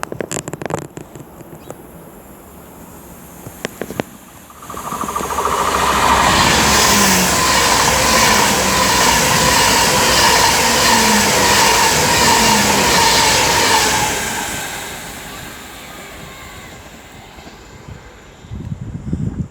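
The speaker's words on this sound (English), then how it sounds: "it's going to be 39137 for Avanti West Coast from Blackpool North to London Euston" An Avanti West Coast train from Blackpool North to London Euston rushes past close by on the West Coast Main Line at Marston Green, a loud sustained roar with rhythmic wheel clatter that swells, holds for several seconds, then fades.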